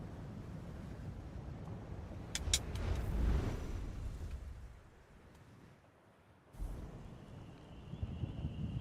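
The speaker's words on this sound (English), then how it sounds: "You always hear thunder, but you never see rain." Low, rolling thunder in the video game The Elder Scrolls Online, in Vvardenfell, rumbles in the distance with a couple of sharp crackles, fading briefly before the rumble returns.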